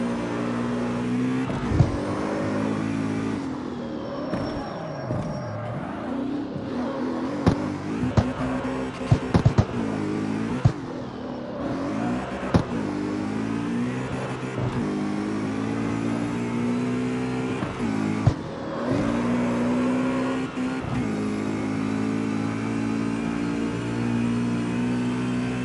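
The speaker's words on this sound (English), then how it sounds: "I do like the sound of the straight cut transmission." BMW car engine with a straight cut transmission in the CarX Street racing game, revving and accelerating continuously with loud, rising and falling engine tones, gear changes and a whining drivetrain, no talking.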